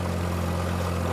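A compact tractor engine idles steadily up close, giving a constant low rumble and hum that does not change over the short stretch.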